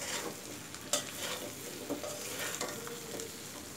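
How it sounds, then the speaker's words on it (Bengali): Mango pickle mixture is stirred in a pan over a steady close sizzle, with a few sharp spatula scrapes and knocks against the pan. "এখন আমের সাথে আমি সব কিছু এভাবে মিশিয়ে নিব।"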